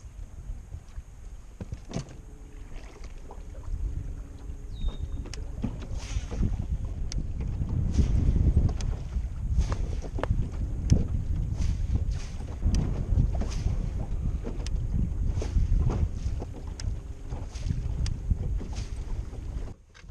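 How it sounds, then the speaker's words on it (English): Strong wind roars and buffets the microphone in continuous low rumbling gusts on a bass-fishing boat, with occasional knocks and water sloshing close by. "The wind is so bad right now."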